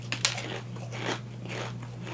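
Crunchy bites into tater tots topped with beer cheese, a few crisp snaps followed by steady close chewing, up close with no talking.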